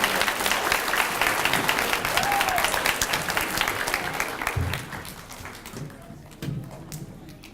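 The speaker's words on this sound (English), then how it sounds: "So let's give him a huge round of applause" Loud audience applause at an Aboriginal Day school awards gathering, dense clapping that carries strongly for several seconds and then thins and fades toward the end, with some crowd murmur underneath.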